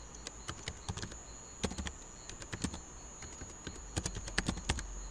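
Keystrokes on a computer keyboard while a command is typed into a terminal: quick clusters of crisp clicks separated by short pauses, close and fairly quiet over a steady background hum.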